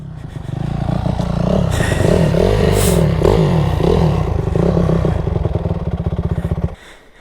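Motocross dirt bike engine, either a Honda CRF250R four-stroke or CR125R two-stroke, revving close and loud through several throttle blips and shifts, then dropping to a pulsing idle before cutting off.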